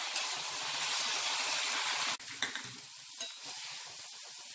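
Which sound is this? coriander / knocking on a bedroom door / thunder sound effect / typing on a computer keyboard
coriander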